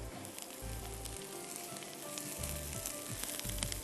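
Onions fry in a pan with a fairly quiet, steady sizzle and fine crackling, a low hum running beneath throughout.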